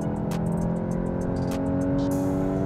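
A 2022 Volkswagen GTI pulls hard in third gear toward its 6,500 RPM redline, the engine note a steady, rising drone heard from inside the car, moderately loud, with no speech.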